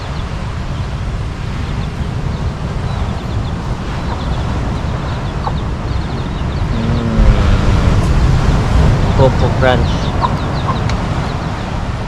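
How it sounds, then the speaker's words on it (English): A chicken clucks in short bursts partway through, close by, over steady outdoor background noise, with people talking briefly. "Baby chicken."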